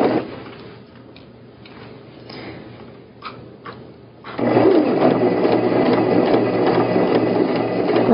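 A sewing machine feeds tote bag fabric through its stitching, first as a quieter run with light ticking, then a louder, steady mechanical whir at close range.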